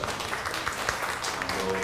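Crowd applause, a dense steady patter of many hands clapping at moderate volume throughout.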